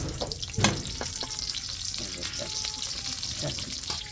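Garlic fries in hot oil for a tempering, a continuous close crackling sizzle with a few louder pops and faint utensil sounds.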